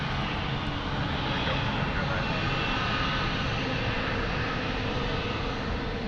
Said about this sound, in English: So, Geneva flight going out, Swiss 442.